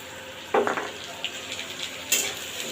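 Rice, dried red chillies and bay leaf frying in hot mustard oil, a steady close sizzle with sharp crackling bursts as the ingredients hit the pan and stirring scrapes along the way.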